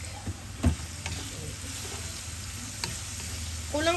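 Sliced garlic frying in hot olive oil, a quiet steady sizzle over a low hum, with a few soft stirring knocks and a brief scrape at the end.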